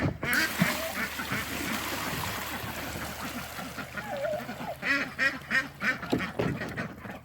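Homestead ducks quack in bursts around freshly filled puddles of dumped water, some calls close and loud, others scattered behind, with faint splashing and a little background noise.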